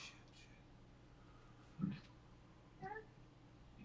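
A house cat meows quietly two times, the first short and low, the second a higher, wavering call a second later, over a faint room hum.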